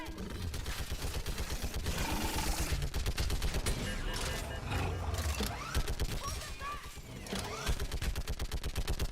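Sustained rapid fire from a mounted gun in Mass Effect, hammering out a steady stream of loud shots across the whole stretch amid battle noise and creature cries.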